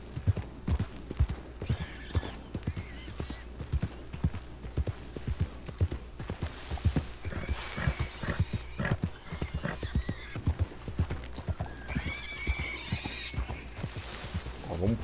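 Horse hooves clip-clop steadily in Red Dead Redemption 2 while taming horses in open country, a close, rhythmic trot running the whole time with occasional whinnies and neighs rising above it.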